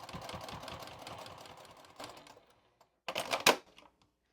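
Sewing machine stitching along the bottom of a quilted zipper pouch, a rapid mechanical whir for about two seconds, then a pause and a short final burst, quiet and close.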